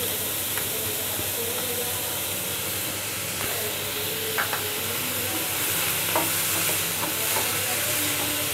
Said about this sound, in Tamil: நல்ல வெங்காயத்தை நல்லா வதக்குங்க.